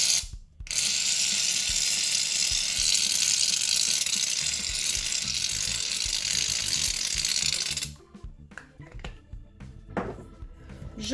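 White glue and shaving cream being stirred together into fluffy slime, a steady wet churning that runs continuously for several seconds, then breaks into softer, irregular squelches and clicks near the end.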